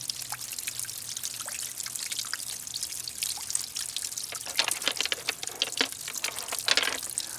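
A bird bath converted into a garden water feature, with water running over rocks above a grate: a continuous close trickle and splash with irregular droplet plinks, growing a little busier toward the end.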